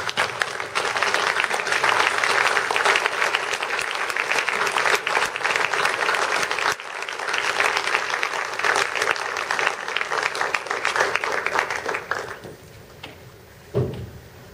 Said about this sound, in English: please join me, first of all, in standing up and applauding your supporters